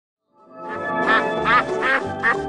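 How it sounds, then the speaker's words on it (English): A cartoon duck quacks in a children's learning cartoon, a run of four or so nasal, buzzy quacks rising in quick rhythm over a musical bed, close and clear. "Duck."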